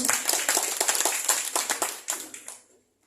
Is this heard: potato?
no